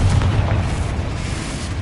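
A Confringo spell blast in Hogwarts Legacy bursts in a loud, deep boom with a rumbling, crackling tail that holds for about two seconds.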